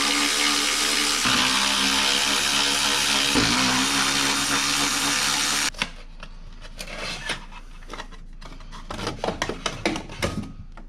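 Three 10mm bolts come loose from the heat shield of a VW Jetta Sportwagen TDI, as a powered tool drives them out in a steady mechanical whir before the work turns to scattered clanks and ratcheting taps.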